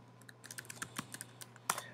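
Quick, irregular keystrokes tapped on a computer keyboard, heard close and alone at a soft level.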